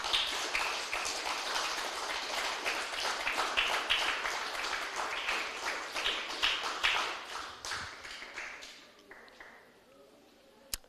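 A church congregation applauds the Lord, a dense wash of clapping that holds steady for several seconds and then tapers off into near quiet, with a few louder claps near the end.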